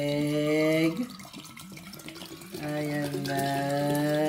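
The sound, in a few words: water being poured into a bottle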